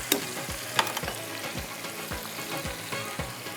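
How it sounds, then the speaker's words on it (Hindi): Spices with turmeric powder fry in a pan for a tarka, a steady sizzle broken by regular scraping strokes of a spoon about every half second, with a couple of sharp metallic knocks at the start. "ये हमने डाल दी इसमें सारे मसाले और इसको आपने थोड़ा सा इस तरह से भून लेना है"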